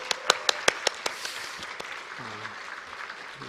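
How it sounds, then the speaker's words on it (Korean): In a church Easter service after a choir cantata, a few sharp, close, evenly spaced hand claps ring out over broader congregational applause, which soon fades into a quieter murmur with a faint voice near the end. "함께 다시 한번 감사의 박수 올려드리겠습니다"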